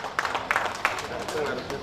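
A crowd gives lively applause for the Banyumasan community association at its 38th anniversary gathering in Bali, brisk continuous clapping heard under a speaking voice.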